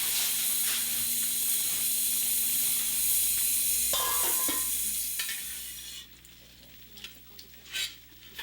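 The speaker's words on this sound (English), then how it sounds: "And now we're going to cover it" Rice cooks in a covered pot in a kitchen, giving off a steady hiss and sizzle of steam that runs loud for several seconds, then drops to a faint simmer with a few soft clicks.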